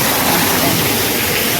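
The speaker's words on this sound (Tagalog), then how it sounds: "May waterfalls." An artificial waterfall at a hotel pool at the Shenzhen Shangri-La pours with a loud, steady, unbroken rush of falling water filling the whole scene.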